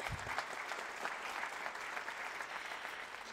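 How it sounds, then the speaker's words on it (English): At a New York City Council member's inauguration, an audience applauds for his new bride: dense, continuous crowd clapping, even and sustained, heard from a distance. "she deserves a round of applause too"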